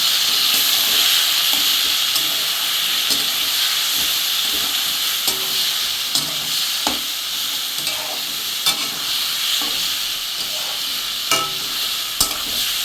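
Vegetables and fish oil sizzle and hiss in a hot pan for a Bengali fish-oil paturi dish, a loud steady frying hiss broken by scattered scrapes and taps of stirring, close up with no talk.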